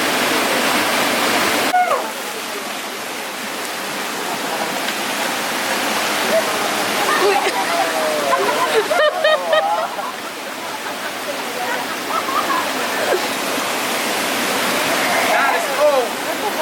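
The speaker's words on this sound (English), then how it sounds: "we are going to enter a natural pool. Kind of like a cascade as well, in a way." A waterfall cascades into a natural pool at Santa Rita Cascade near Salento, Colombia, giving a loud, continuous rushing roar with splashing, close by, and brief voices heard over it.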